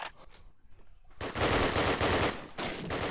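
Rapid automatic gunfire from a competitive online shooter match, loud bursts following a brief quieter stretch, sustained and close with no speech over it.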